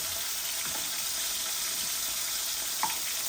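Boneless tilapia fish frying in a pan, a steady close broadband sizzle of hot oil that fills the clip with a few faint clinks, no voices.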